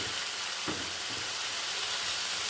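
Chicken pieces frying in a pan for pepper chicken, a loud steady sizzle with a few soft clunks of pieces landing or being stirred early on.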